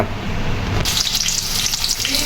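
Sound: onion frying in hot oil in a pot

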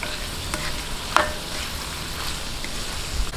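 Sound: shrimp sizzling as it is added to the seafood paella

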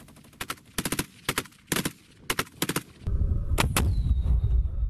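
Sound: RPG-30 anti-tank rocket launcher being fired

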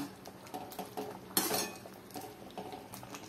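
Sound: stirring ground spice powder into yam masiyal in pot

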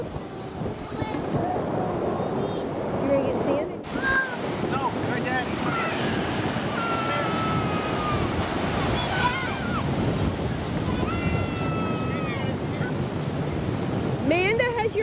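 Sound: ocean waves on a beach

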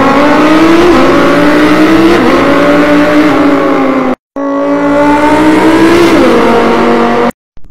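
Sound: man imitating a revving car engine with his mouth

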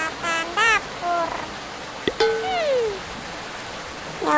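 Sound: rain in Sakura School Simulator video game

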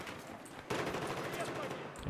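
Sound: gunfire in the video game Battlefield 1

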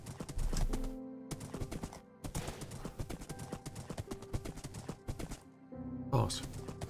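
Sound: horse hooves clip-clopping in video game Minecraft

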